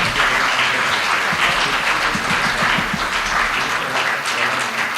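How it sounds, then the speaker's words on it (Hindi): Sustained applause from an audience at a school naat competition, steady, dense clapping that fills the hall and continues without a break for the full stretch. "और जोरदार तालियों से बच्ची की हिम्मत अफजाई कीजिए।"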